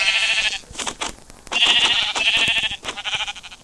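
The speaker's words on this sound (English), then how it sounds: "Oh, hello, sheep." Sheep in Minecraft bleat in several short, nasal calls, loud and close, with brief gaps between them and no talking over them.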